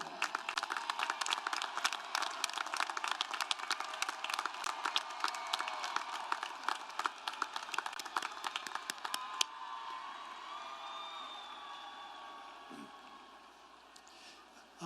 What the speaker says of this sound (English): Everyone please stand. Let's give them a round of applause